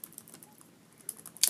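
Fingers type on the keyboard of a Sony Vaio VGN-N150P laptop, giving a quick run of soft, close key clicks with a louder burst of taps at the end and no voices.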